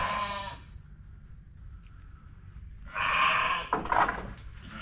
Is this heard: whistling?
no